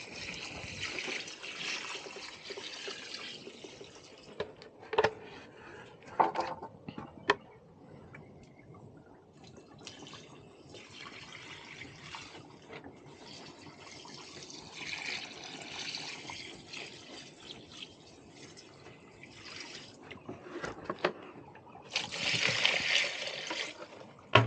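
Water trickles and splashes as it is poured into a water softener brine tank to break up a salt bridge, quiet and close, with a few louder splashing surges near the end.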